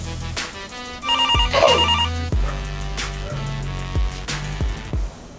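A phone rings with a bright electronic ringtone, repeating melodic bursts over a steady low background, fairly close and loud, with no talking.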